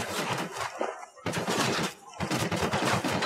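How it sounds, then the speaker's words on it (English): Sustained automatic gunfire in the video game Ghost Recon Wildlands comes in three dense, loud bursts separated by brief pauses. "Somebody shooting."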